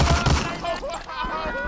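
Enemy gunfire and grenade blasts in Medal of Honor Allied Assault, a short stretch of rapid shots and booms with a voice talking over the clatter.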